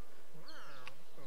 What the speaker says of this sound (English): More weird birds.